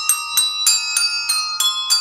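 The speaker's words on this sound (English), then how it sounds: "Fuck off with your bells." Handbells ringing in a steady run of seven bright, clear strikes, each chime ringing on with a shimmering decay before the next, loud and close with no talk.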